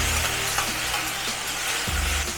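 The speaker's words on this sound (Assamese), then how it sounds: "এতিয়া মই ইমানখিনি জুখত কাটি থোৱা বিলাহীটো দি দিম আৰু বিলাহীটো গলি যোৱালৈকে ভাজিম" Onions and tomatoes fry in a pan as the base for a black sesame chicken curry, giving a dense, loud, unbroken sizzle with a few soft scrapes of stirring.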